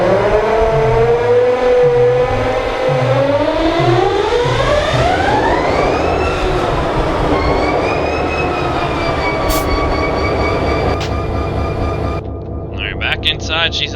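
A diesel locomotive in the Run 8 train simulator game starts up, its engine note swelling and settling into a steady idle with rising whine, followed by a short burst of air hiss; heard loud and near.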